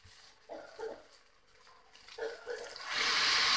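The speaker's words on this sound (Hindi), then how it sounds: "अब इसमें हम पानी डाल देंगे।" Water poured into a pot of fried rice for kala chana pulao, a rising broadband splashing rush that builds in the final second after quieter kitchen clatter.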